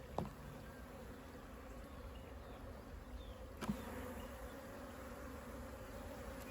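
Honeybees drone steadily inside a damp, moldy hive infested with hive beetles, a continuous close buzzing hum with a couple of brief knocks from the inspection.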